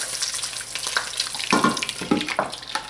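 Bacon sizzling in a frying pan as it is turned over, a steady crackling hiss with a few louder pops and spits, close and fairly loud.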